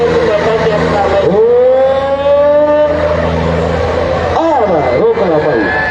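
A John Deere tractor at a tractor pulling contest revs loudly and steadily, its engine pitch sweeping up and down in strong surges, with a crowd and a commentator's voice running beneath it.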